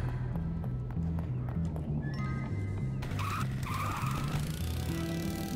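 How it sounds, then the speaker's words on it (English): A go-kart in the game Bully buzzes along with a steady motor whine, then a squealing tire skid cuts in partway through, with a faint clicking patter underneath. "So let me go and grab my go-kart."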